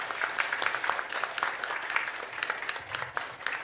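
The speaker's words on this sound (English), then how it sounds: "a huge round of applause for our panelists" Steady applause from a meetup audience after a panel, dense clapping filling the whole stretch at moderate volume with no voices.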